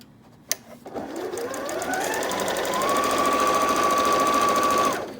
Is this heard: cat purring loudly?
no